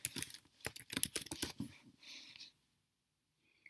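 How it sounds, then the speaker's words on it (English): Rapid, close clicking of keys on a computer keyboard in quick bursts, then a pause before near silence. "You can search for a course simply by typing in the name."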